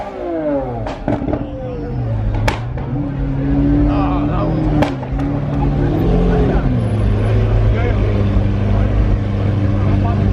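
A Lamborghini Aventador with a Mansory exhaust revs loudly with sharp exhaust barks and crackles, rising and falling in pitch, close by, at a car meet.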